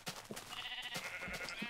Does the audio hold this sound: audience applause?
no